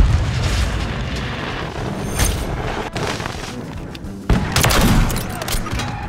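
Loud bursts of gunfire from a shooter video game with a sniper scope, rapid shots and heavy booms that swell and subside, with a sharp surge of fire near the end; a voice speaks faintly underneath.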